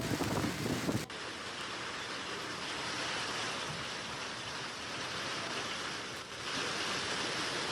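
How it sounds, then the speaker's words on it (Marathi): Heavy unseasonal rain with hail pours down steadily at a village in Nandurbar, Maharashtra, a dense, loud wash of falling water and ice drumming on surfaces throughout, with a sharp knock near the start. "जोरदार गारपिटीसह अवकाळी पावसानं हजेरी लावली"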